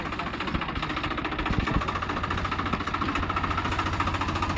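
A tractor engine runs steadily close by, a dense low rumble with a knocking, vibrating idle that holds constant loudness throughout with no voices.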